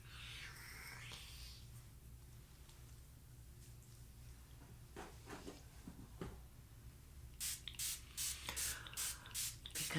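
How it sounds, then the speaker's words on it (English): A hydrosol facial mist sprayed several times in quick bursts, a rapid series of short airy hisses toward the end, with an earlier faint puff at the start over a low background hum. "Because you can never spray too much Hydrosol"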